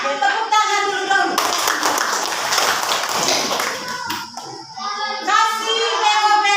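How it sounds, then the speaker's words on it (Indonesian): A classroom of primary schoolchildren clap their hands together in a loud, dense burst lasting several seconds, with a teacher's voice speaking before and after. "Oke, tepuk tangan dulu dong."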